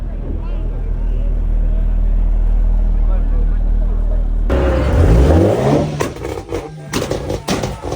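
A Porsche 911 GT3 RS 992 roars past after a steady low engine drone, its loud engine note sweeping up and then falling away as it goes by, with voices talking nearby.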